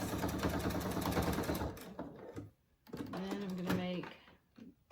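A sewing machine stitches an X across a fabric dog collar in a quick close-up burst, then falls quiet while a person talks briefly.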